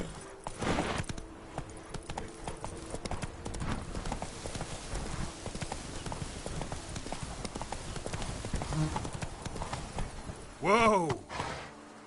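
Roach, a horse in The Witcher video game, clip-clops along in a steady walking rhythm of hoof strikes, with a brief whinny near the end over a busy background.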